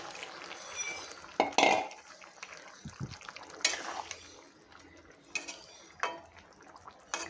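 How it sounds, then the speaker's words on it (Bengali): Reserved chickpea boiling water is poured into a pan of sautéed chole masala, with a wet splash, a few clinks of a utensil against the pan and soft stirring, close and moderately quiet. "কষানো হয়ে গেছে আর আমি এখন দিয়ে দিলাম জলটা।"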